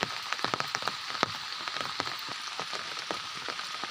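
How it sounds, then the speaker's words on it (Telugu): Steady rain falling on a farm field of crops with plants knocked down, a dense close patter of drops on leaves and ground, constant and moderately loud with no talking. "ఇప్పుడు కూడా వర్షం కురుస్తూనే ఉందండి"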